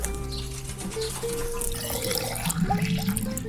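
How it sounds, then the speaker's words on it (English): Water runs and splashes into a container in a garden setting, a steady liquid flow with a few drips and a rising fill tone near the end, fairly close and with no talk over it. "We need to put water here first."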